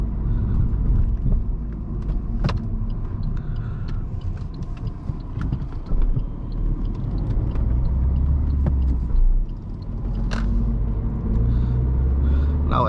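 An Alfa Romeo Mito's turbo engine and road rumble fill the cabin during a fast night drive on the autobahn, a steady loud drone with shifting swells and no talk.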